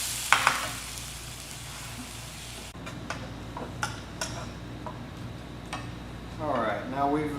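Atlantic wolffish cooking in ragu in a pan gives a low steady sizzle, with scattered ticks and utensil taps and a short clatter near the end; a voice is briefly present.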